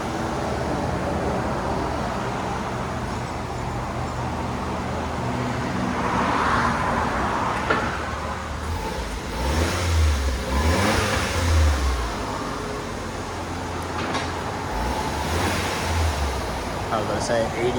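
A factory-stock 1998 Suzuki Jimny, a manual right-hand-drive small SUV, runs its engine with a low steady drone that swells into a couple of louder revs midway, heard alongside people talking.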